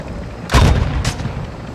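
Sniper rifle fire in the video game Warzone 2.0: two sharp, booming shots about half a second apart, loud and close, over a low background hum.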